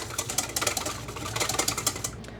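A whisk beats through strained keto strawberry ice cream custard liquid in quick, rhythmic, fairly faint strokes that clink and swish steadily for a couple of seconds.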